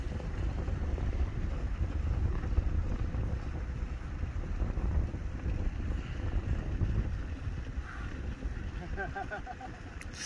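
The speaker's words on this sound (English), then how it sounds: "Super windy out here today." Strong wind roars and buffets the microphone on a golf course throughout, a constant low rumble with gusts, with faint water sounds beneath.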